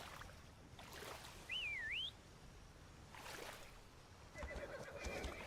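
A horse neighs in the Windrose video game, one short rising-and-falling whinny standing out against a steady game ambience with a few other soft effects.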